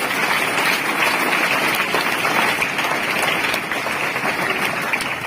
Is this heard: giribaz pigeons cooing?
no